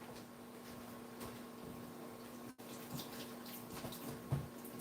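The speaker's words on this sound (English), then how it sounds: "Now I gotta wash my hands again." Tap water runs steadily into a sink during hand washing, a faint continuous wash with a brief interruption midway and small splashes near the end.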